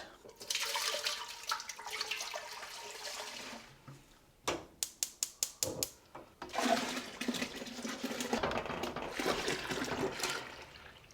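Raw milk pours and splashes into a cheesemaking vat for a cream-boosted Butterkäse, a gushing liquid stream broken by a short run of rapid knocks before the pouring resumes, fairly close and steady.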